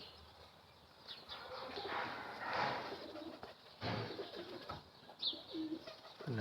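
Pigeons coo in a loft among pet birds, a few soft rounded calls rising and falling close by over a steady background hiss, with occasional faint rustles.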